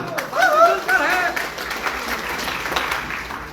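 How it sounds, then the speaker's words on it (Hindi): An audience claps together at a live stage event with musical accompaniment, a dense, steady patter of applause lasting several seconds, with a few voices calling out near the start before the clapping carries on alone and slowly thins. "एक बार ताली हो जाए भाई के लिए।"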